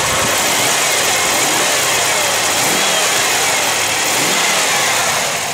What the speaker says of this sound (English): As you can tell, the engine's quiet as a mouse.